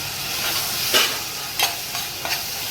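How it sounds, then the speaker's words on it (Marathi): Tomato and ginger-garlic paste fries in a pan for pulao, giving a steady close sizzle broken by a few scraping stirs of a spoon. "तर आता आपण टाकूया बघा टॅमॅटो अदरक लसणाची पेस्ट"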